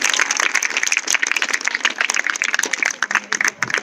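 Lighter applause from an audience at a girls' senior secondary school event, with individual claps audible in an uneven patter, close and brief, thinning out toward the end.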